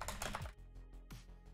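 Typing on a computer keyboard during a programming session, a rapid flurry of clicks followed by a few slower, sparser keystrokes, close and faint.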